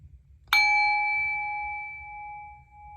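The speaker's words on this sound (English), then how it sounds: "I'm gonna ring the bell" A bell is struck once, giving a clear, bright ding that rings on and slowly fades over a few seconds, heard alone above a faint low rumble.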